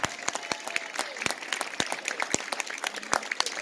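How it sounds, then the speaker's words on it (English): Audience at a cosplay fashion runway show during a quilt expo in Atlanta claps steadily, a dense patter of close, sharp hand claps with no cheering standing out. "Give them one more big round of applause."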